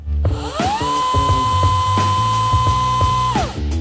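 Small chainsaw running briefly to test its chain oil feed, a high, whining buzz that revs up, holds steady for a few seconds, then drops off, loud and close with no voices.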